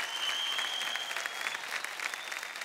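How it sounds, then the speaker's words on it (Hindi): Loud audience applause after a dance performance on a televised Indian talent show stage, continuous thick clapping from a crowd with a faint high tonal hum running underneath. "जोरदार तालियां यार।"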